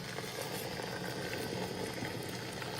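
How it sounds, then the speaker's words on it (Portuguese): Boiling water poured into a pot over pieces of moranga squash, a steady broadband rushing pour that continues throughout without pause. "eu vou colocar água fervendo novamente"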